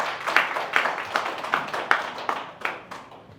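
At a startup conference event, a sparse audience claps: a handful of loud, distinct hand claps in an uneven rhythm, fading near the end.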